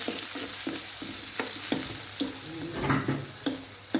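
Oil sizzles steadily in a pan while a utensil scrapes and stirs in a regular rhythm, close up, as spices fry and slightly burn.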